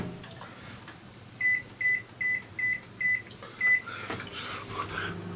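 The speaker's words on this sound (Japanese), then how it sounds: "じゃあ、電子レンジで温めます。" A microwave oven used to heat a Chinese stir-fry topping gives six short, evenly spaced beeps as it is set, then its low running hum starts with faint handling clatter nearby.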